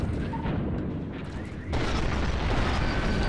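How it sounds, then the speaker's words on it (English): A pair of explosions in the space combat game Space Pirates and Zombies: dense rumbling blasts that swell and then flare up again into a sustained roar, with no speech over them. "Double explosion"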